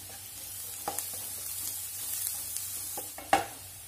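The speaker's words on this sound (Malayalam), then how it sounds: "ഇനി ഇതൊന്ന് വഴറ്റുക." Chopped onion sautés in a pan, a steady soft sizzle broken by a few sharp stirring scrapes, with one louder clatter near the end; no one talks.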